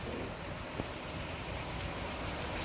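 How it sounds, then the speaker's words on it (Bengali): Rain pours steadily outside a house during the monsoon, a faint even hiss of drops with one brief knock and no voices. "বাইরে দেখো কি সুন্দর বৃষ্টি পড়ছে"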